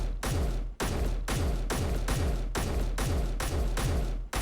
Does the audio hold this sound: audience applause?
no